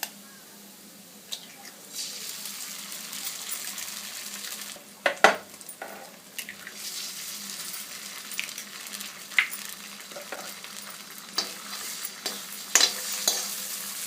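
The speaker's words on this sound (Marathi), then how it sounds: "कांदा मऊ झाल्यावर यामध्ये हळद घालायची थोडीशी हळद घातल्यावर ही अंडी आपल्याला यामध्ये फोडून घालायची आहे" Soft onions frying with turmeric in a pan as eggs go in, a low steady sizzle broken by a few clattering knocks and scrapes against the pan, fairly quiet with no voices.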